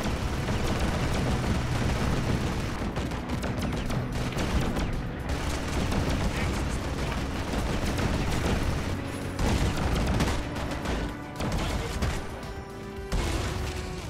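Gunfire from the video game Rust crackles in dense, continuous volleys with crashes and blasts layered together, loud and relentless from start to finish.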